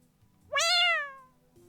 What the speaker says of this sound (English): here's the bad kitty